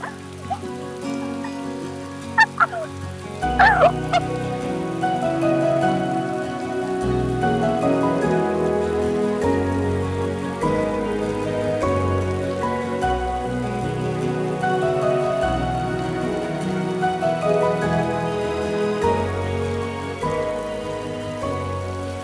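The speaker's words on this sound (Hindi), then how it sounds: "बारिश में क्यों भीग रहे हो?" Rain falls steadily in a dramatic scene, a continuous patter under a soft, sustained musical backdrop that runs the whole length, with a couple of brief sharp clicks near the start.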